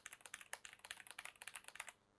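Rapid clicky keystrokes from an Azoth 75% mechanical keyboard, a steady run of crisp taps typed close up with no voices.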